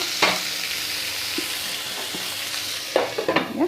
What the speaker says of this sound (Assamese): এতিয়া এইখিনি মই ল' ফ্লেমত ভাজি ল'ম